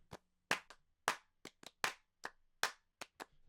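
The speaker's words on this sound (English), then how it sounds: "We need some sort of clap. Let's go to drum loop." A drum-loop clap sample auditioned while producing a country song, about a dozen sharp, dry claps in an irregular pattern, each one crisp and close with a short decaying tail against silence.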